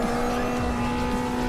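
Race car engine in a driving game on a $3000 sim rig, a steady sustained drone with a constant pitch and faint tyre noise, loud and continuous with no talk.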